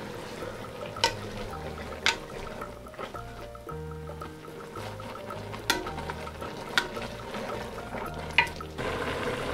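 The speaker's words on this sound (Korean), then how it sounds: "국물이 어느 정도 졸을 때까지 섞어주세요." Soy-braised bean sprouts simmer in broth in a pot, giving a steady bubbling sizzle, with periodic sharp utensil scrapes and clinks as they are stirred. Nobody talks.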